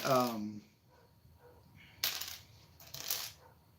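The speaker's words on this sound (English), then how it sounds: "I just opened this bag and I found my wheels and tires." Plastic pieces from a bag of an AliExpress 21108 Ecto-1 building set, including wheels and tires, clatter and rattle in two short bursts after a brief voice at the start, moderately loud and close.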